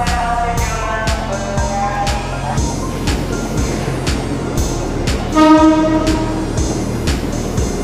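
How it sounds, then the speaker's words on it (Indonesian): A commuter train bound for Bekasi at busy Manggarai transit station in Jakarta, loud and close, with steady rhythmic wheel clatter over rail joints, sharp metallic clacks, and a sustained horn tone rising midway. "Ini komuter lain arah ke Bekasi ya teman-teman ya"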